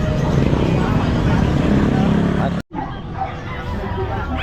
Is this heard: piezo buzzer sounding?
no